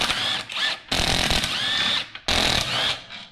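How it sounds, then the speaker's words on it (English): A Harbor Freight impact wrench hammers loose crusty old subframe bolts on a KA24DET-swapped car, three loud, close bursts of rattling whir separated by brief pauses. "Now we can take it out with the impact."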